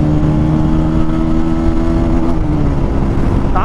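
Yamaha R15M and Bajaj Pulsar 220 BS6 motorcycles in a drag race, engines loud and close, droning steadily while accelerating hard in third gear.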